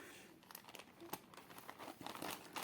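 A small plastic bag holding embroidery threads crinkles close by in steady, uneven rustles and crackles, with no voices.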